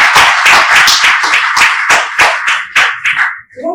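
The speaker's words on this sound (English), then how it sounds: "Please, a warm round of applause for him once again." An audience at a business of law conference bursts into a burst of hand clapping, a loud, dense round of applause that holds steady for several seconds before thinning out near the end.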